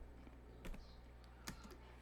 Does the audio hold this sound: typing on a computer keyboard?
yes